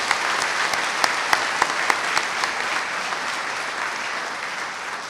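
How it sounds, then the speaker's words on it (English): An audience at a college commencement claps steadily throughout, a dense wash of applause from a large crowd with a few sharper individual claps standing out. "I'll lead the applause for her."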